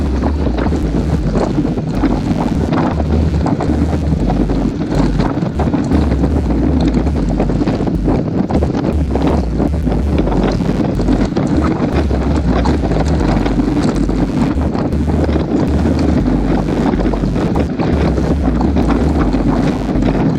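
Strong wind roaring across the microphone while road cycling on a quiet rural road near Bedias, Texas, a loud continuous buffeting rumble that never lets up, with no talking.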